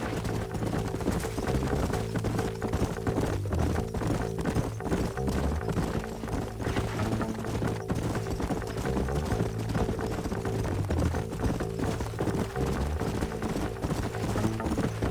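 Horse hooves clip-clop steadily in the Red Dead Redemption 2 video game, a continuous rhythmic trot mixed with game ambience and background music at a fairly even, full level.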